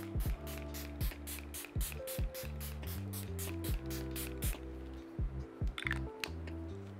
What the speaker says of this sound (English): I'm going to spritz that all over my face, closing my eye.